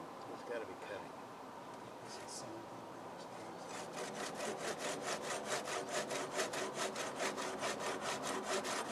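Rhythmic hand saw strokes biting into a log at a river house cabin, a steady back-and-forth rasp that starts softly and grows louder and regular, with voices talking underneath.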